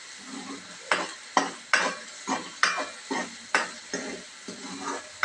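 Masala is stirred and fried in a pan until reddish: a steady sizzle runs underneath while a spoon scrapes the pan in about ten regular, evenly spaced strokes, close and clear, with no talking.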